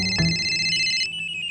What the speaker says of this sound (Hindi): रॉकी, फोन उठा